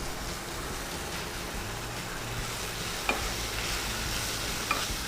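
Curry leaves hit hot oil in a Kerala-style kitchen, giving a steady broadband sizzle and crackle with a couple of sharp utensil taps, continuous and close, no talk.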